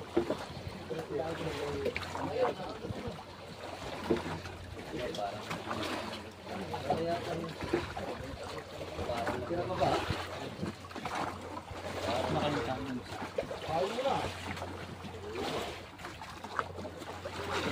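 Strong river current rushes steadily around a small boat, a continuous broadband wash of water close by, with faint talk in the background.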